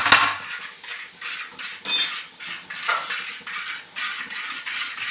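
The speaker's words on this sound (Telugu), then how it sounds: "అన్నీ కలుపుకొని చేప ముక్కలు కూడా వేసి మంచిగా కలుపుకోవాలి" Fish pieces mixed with cumin-fenugreek powder and mustard in a metal bowl: rhythmic clinks and scraping of a utensil against the dish, repeated about once a second, close and fairly clear.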